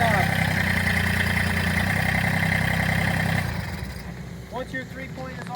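A Massey Ferguson tractor engine idles loud and steady nearby, then cuts off after a few seconds, leaving quieter background noise behind.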